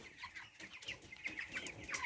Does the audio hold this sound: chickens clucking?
yes